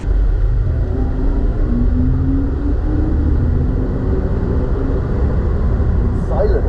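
An Audi on new Continental tires laps a racing circuit with a professional driver at the wheel, heard from inside the car as a steady, loud engine and road roar, with the engine pitch rising and falling.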